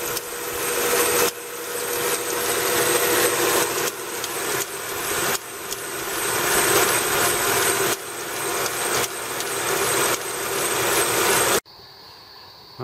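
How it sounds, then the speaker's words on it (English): Continuous rough slapping and rubbing from a broken belt piece flapping against parts in a running Mercedes C240 engine, a dense steady racket that suddenly cuts out near the end. "there's a piece of the belt hanging off, like that bit, but worse, and it's flapping on everything and slapping it"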